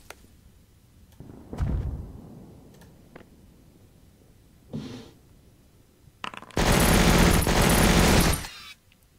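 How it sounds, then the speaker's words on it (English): An MG42 machine gun firing in the Heroes of Normandie video game: a few short bursts and thumps early on, then a loud, sustained rattling burst lasting about two seconds before cutting off. "MG42, that's very nice"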